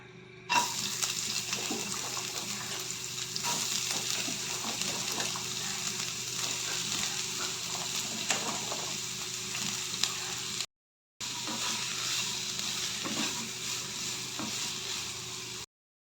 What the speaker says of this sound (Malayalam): മസാലയ്ക്കുള്ള ഉള്ളി ഫ്രൈ ചെയ്യാം